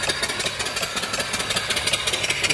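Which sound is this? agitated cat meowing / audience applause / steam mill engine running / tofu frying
steam mill engine running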